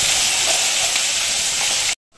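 Ginger, garlic, green chili and onion paste tipped into hot oil with asafoetida, sizzling loudly and steadily for about two seconds before cutting off abruptly.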